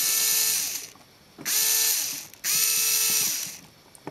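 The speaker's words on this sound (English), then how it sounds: "I'll bring up my common M motor, attach it right there. And when I turn it on" Small Lego Power Functions M motor whirring in three short bursts with brief pauses between them, each start and stop marked by a rising and falling mechanical whine, close and clear with no voices.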